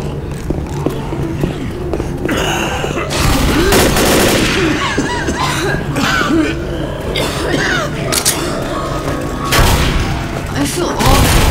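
Gunfire in Left 4 Dead on the No Mercy campaign, Advanced difficulty: dense bursts of shots and booms run almost continuously, with players talking and shouting over the shooting.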